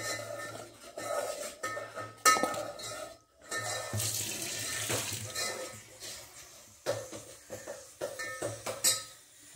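Water runs and splashes in a kitchen sink as coriander is put in to soak, with intermittent clinks of dishes and utensils and brief pauses between bursts.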